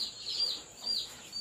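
Faint, high chick peeps from a chick in a hatchery incubator, a couple of soft chirping bursts over quiet background.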